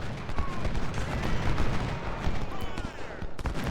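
Artillery and musket fire in the Civil War strategy game Ultimate General, a continuous rumble of booming shots and crackling volleys at a steady level.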